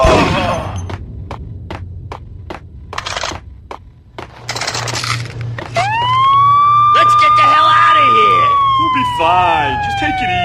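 A police siren from the Max Payne video game rises and holds a loud wailing tone over game sounds. Rapid clacking impacts come before it, and a voice speaks briefly.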